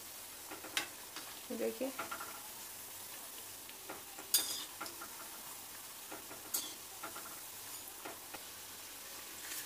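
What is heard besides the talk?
aloo tikki frying in oil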